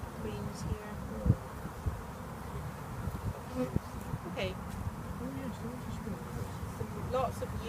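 Honeybees hum in a dense, steady drone around an open nucleus hive, close and quiet, with a few individual bees buzzing louder as they pass. A person speaks briefly over it.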